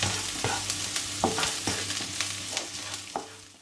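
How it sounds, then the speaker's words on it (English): Garlic stir-fried in a wok for chicken and shrimp nasi goreng, a steady loud sizzle broken by repeated scraping strokes of the spatula, with no voices. "ingredients moving around in the wok, so we don't want the garlic to burn"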